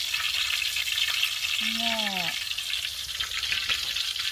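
Food frying in a pan for breakfast, a constant loud sizzle and crackle throughout while a voice speaks briefly over it.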